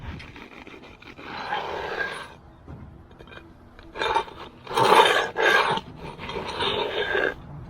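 Trowel scraping up wet concrete cream on a backyard slab to build up corners, a rough rasping scrape in bursts, loudest and most repeated toward the end, with faint background noise between strokes.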